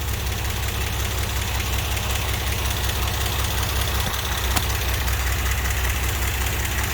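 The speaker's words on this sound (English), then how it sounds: "She's gonna sit there and idle." The engine of a 1963 GMC K1000 4x4 barn-find truck idles steadily, a loud, even, low rumble with a faint rhythmic knock and no voices.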